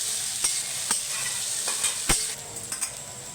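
Eggs and flattened rice frying together in a pan for chire pulao while being stirred, a bright continuous sizzling hiss with several dull spatula knocks and scrapes, near and unaccompanied by voices.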